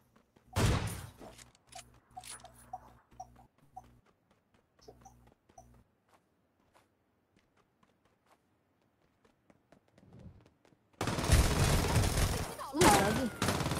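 Gunfire bursts in a multiplayer shooter game, a loud volley at the start and a heavy sustained barrage at the end, with sparse sounds and quiet gaps between.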